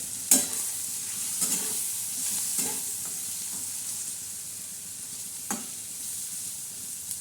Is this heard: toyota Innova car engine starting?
no